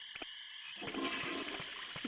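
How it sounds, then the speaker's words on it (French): A toilet flushes in Digimon World, a short rushing swell of water that starts with a couple of clicks and fills the rest of the moment, fairly close and alone. "Petite chasse d'eau, là."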